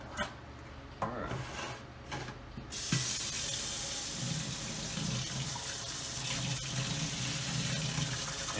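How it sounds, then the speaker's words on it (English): Water pouring steadily from a tap into a container to mix 2 gallons of chicken medicine for gapeworm, a continuous close rushing fill after a few brief clunks at the start. "I'm going to put 2 gallons of water in here"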